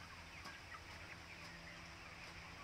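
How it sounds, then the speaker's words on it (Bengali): Soft clucking and murmuring of antibiotic-free broiler chickens in a poultry shed, faint and distant, with a few brief calls over a steady low background hum. "আপনারা যে মুরগিগুলো দেখতেছেন, এই মুরগিটা হলো অ্যান্টিবায়োটিক ফ্রি"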